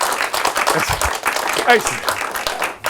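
Spontaneous audience applause after a public speaking presentation, a lively burst of many hands clapping with a voice briefly heard within it, stopping abruptly at the end.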